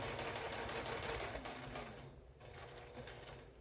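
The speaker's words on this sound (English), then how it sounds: "you're just going to sew straight down that line" A sewing machine stitches straight down a seam on a fabric tea wallet, its fast, even needle chatter running quietly and close, then slowing and pausing briefly before resuming.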